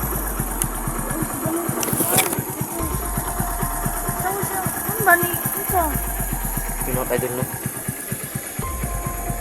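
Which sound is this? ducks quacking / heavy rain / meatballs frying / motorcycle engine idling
motorcycle engine idling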